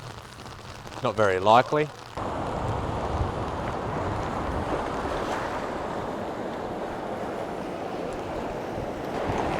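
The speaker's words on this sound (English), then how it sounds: "So it is well and truly pouring down here now" Heavy rain pours down along a coastline in a steady, dense hiss that fills the whole scene, with a brief burst of talk near the start.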